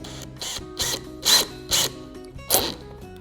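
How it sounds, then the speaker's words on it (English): Several short bursts of a power drill whirring briefly as a drill bit is fitted into the chuck, about five quick spurts spaced roughly evenly, close and fairly loud. "So we're going to pop our drill bit in here."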